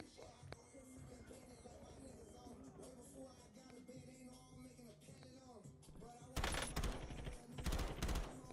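Video game gunfire: quiet battle ambience and faint callouts give way to loud, close bursts of rapid automatic fire in the last couple of seconds.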